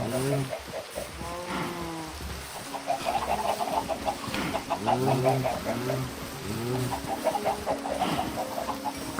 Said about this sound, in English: I'll probably kill some of these chickens too.